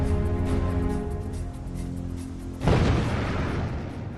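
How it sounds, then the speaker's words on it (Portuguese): A large explosion destroys the building housing reactor number 3 at the Fukushima nuclear plant: a low droning bed is broken by a sudden, loud broadband blast that decays into a heavy rumble. "Uma explosão maior ainda destrói o prédio que abriga o reator número 3."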